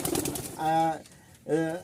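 Pigeons at a pigeon farm give two short, close, mellow coos separated by a brief pause, over faint background murmur.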